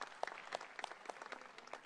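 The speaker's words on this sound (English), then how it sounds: "A big round of applause." Scattered applause at a felicitation during the Kolkata International Film Festival, faint and thin with distinct individual claps rising out of a quiet room rather than a full ovation.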